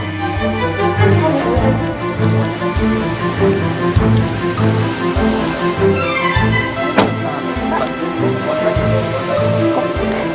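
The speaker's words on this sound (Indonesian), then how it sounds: "Hujan loh." Heavy rain pours steadily outdoors near a graveyard, a dense, loud and continuous hiss of drops close to the microphone that lasts throughout, with no one speaking over it.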